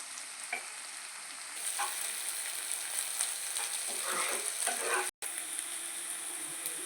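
Sliced onions fry in a pan over medium heat and are turned slowly, producing a steady, close sizzle with soft stirring scrapes and a brief dropout near the end.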